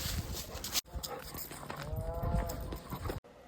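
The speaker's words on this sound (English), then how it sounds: "you could hear some cows in some of my videos" Cattle mooing on open farmland, a few drawn-out low calls rising over steady outdoor background noise, with brief cuts in the sound.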